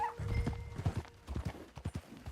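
Horse hooves clip-clop steadily while riding in the Red Dead Redemption 2 video game, a rapid rhythmic patter of hoofbeats over a low ambient bed, with a faint whinny early on.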